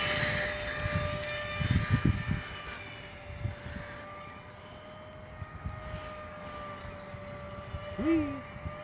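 During a test launch, a small homemade model airplane's motor drones with a steady whine, fairly faint and distant, while wind noise and brief handling bumps come through.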